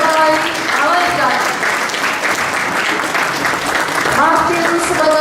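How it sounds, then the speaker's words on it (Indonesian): Enthusiastic clapping from the crowd at a church Christmas play, a thick continuous roar of hands that holds steady while a presenter's voice calls out above it at intervals. "dengan bangga kita berikan tepuk tangan meriah"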